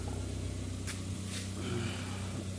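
A 2014 Ford Fiesta 1.4 engine idles steadily, a low even hum with fine regular pulsing that holds throughout, with a couple of brief higher clicks or hisses over it.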